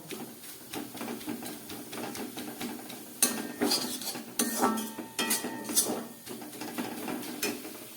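Metal pan of coconut filling made with sugar and jaggery being scraped and lifted off a gas stove, with clinks and clatters of utensil on metal, close, no talking.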